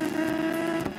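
A car engine runs steadily at an even pitch, loud and close, with a continuous droning hum and no voices over it.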